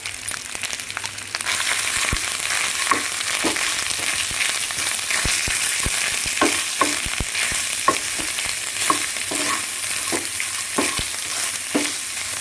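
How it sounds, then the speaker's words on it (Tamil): Grated coconut and black pepper sautéing in a pan for a pepper curry, a constant bright sizzle broken by repeated scraping strokes of a spatula in an uneven rhythm, with no talk. "இதுக்கு மிளகு மட்டும்தான் பொரியணும் தைக்கலாம் சும்மா வதங்கினா போதும்"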